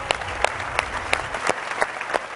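A studio audience on the game show Deal claps in warm but fairly sparse applause, individual hand claps popping out in a quick, uneven rhythm.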